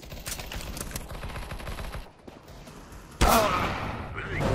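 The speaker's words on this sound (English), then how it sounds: "Okay, let's try this machine gun." Bursts of machine gun fire in the game Counter-Strike, rapid rattling shots that pause briefly and then resume with a louder, sharper volley near the end, with a voice talking over parts of it.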